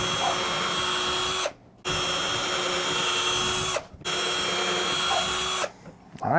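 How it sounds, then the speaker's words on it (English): A power drill pre-drills holes through a wooden board for a homemade crop crimper in three long, steady whines, each cut off by a short pause. "Pre-drill right in the middle of our board."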